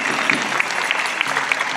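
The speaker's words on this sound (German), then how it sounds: "Danke für den Applaus an dieser Stelle." Steady applause from a crowd at an Easter peace march rally in Neubrandenburg, a dense continuous clapping that holds at an even level throughout without fading.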